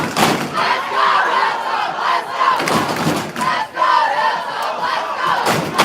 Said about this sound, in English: Crowds cheering for their respective teams, like all crowds do.